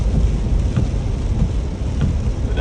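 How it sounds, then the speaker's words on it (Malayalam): Heavy rain pours steadily, a dense roar of drops close by with a low rumble underneath, continuous throughout. "ഇന്ന് അടിപൊളി മഴയാണ്"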